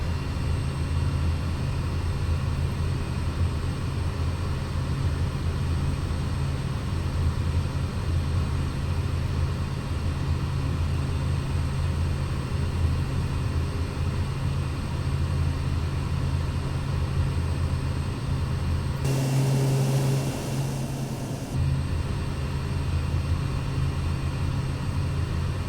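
Pilatus PC-6 Porter turboprop engine slowing in the MSFS2024 flight simulator, a steady low droning hum with a constant whine that briefly shifts to a brighter hiss before settling, no speech.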